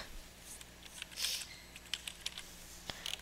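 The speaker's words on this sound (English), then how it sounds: "And then type the code." Typing a code on a computer keyboard, heard as quiet, irregular key clicks with a brief rustle, faint and close.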